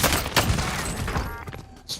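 Rapid gunfire from an enemy sentry gun in a first-person shooter game, with bursts of shots and thuds at moderate loudness that fade somewhat toward the end, no talking heard.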